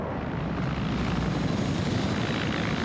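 Helicopter in a video game, a steady loud rotor and engine drone that holds at even strength throughout, with no talk over it.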